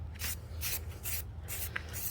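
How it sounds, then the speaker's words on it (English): Aerosol spray paint misting a light coat onto a vase, heard as a series of short, close hissing bursts separated by brief pauses. "So I'm just gonna spray these all with one nice light coat"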